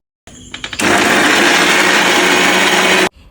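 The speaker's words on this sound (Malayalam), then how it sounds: "ചെമ്മീനിലേക്ക് കുറച്ച് ചെറിയുള്ളി വെളുത്തുള്ളി ഇഞ്ചി പച്ചമുളക് ഇതെല്ലാം കൂടിയാണ് അരയ്ക്കുന്നത്" A blender grinds shallots, garlic, ginger and green chilli into a paste for prawns, starting with a few short pulses before settling into a loud, steady whir for about two seconds, then cutting off abruptly.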